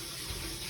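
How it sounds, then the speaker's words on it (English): Water poured into a container for mixing, a steady, soft running flow, faint and continuous without pauses. "Get some more water in there."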